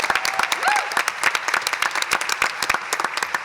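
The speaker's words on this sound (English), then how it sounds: "let's give Monica a round of applause" An audience claps in a sustained round of applause for an honoree at a business awards event, the dense clapping continuing steadily throughout.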